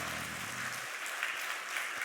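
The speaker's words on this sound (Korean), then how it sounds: "박수." Church congregation applauding at a Sunday worship service, a steady spread of clapping that holds for about two seconds and stays fairly faint, with no voices over it.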